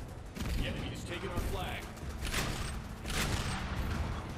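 A turret in a multiplayer shooter fires in rapid, dense bursts, loud and close, mixed with mechanical clatter and booms as other voices carry underneath.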